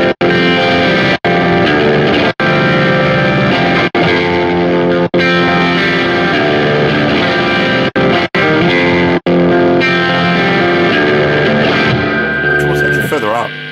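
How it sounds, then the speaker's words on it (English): Electric guitar played through a Zoom MultiStomp MS-50G+ pedal set to a huge reverb, sustained chords ringing loud and wide with brief gaps between strums and a long wash trailing off at the end. "I want reverb, like big, massive, super duper reverb"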